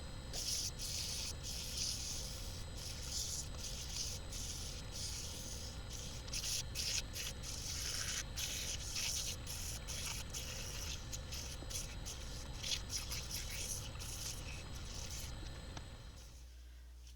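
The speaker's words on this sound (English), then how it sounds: "Wet sanding." Continuous wet, scratchy rubbing of fine-grit sandpaper against a turned wood burl spinning on a lathe, a steady hiss with rhythmic scraping strokes, then the lathe motor winding down.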